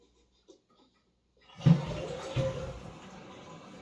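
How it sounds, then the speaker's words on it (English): A toilet flush starts abruptly after near silence, a loud watery gush that surges twice and then settles into a steady draining rush, close by. "courtesy flush"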